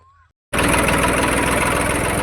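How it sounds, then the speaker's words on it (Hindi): A New Holland 3032 TX tractor engine idles loud and steady after a brief quiet start, with a continuous low rumbling throb. "अब लेकर चलते हैं अपने ट्रैक्टर को।"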